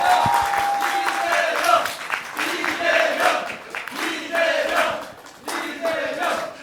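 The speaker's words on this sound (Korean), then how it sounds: "박수로 보내드리겠습니다." Audience applause and cheering send off the mayor of Seongnam at the close of a Korean talk-show broadcast, a loud crowd roar with clapping rising and falling in repeated waves, with voices shouting over it.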